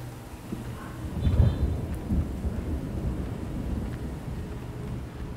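Steady rain hisses with low thunder rumbling underneath in a horror game set on a farm, a dense continuous downpour that swells slightly early on and keeps going without voices.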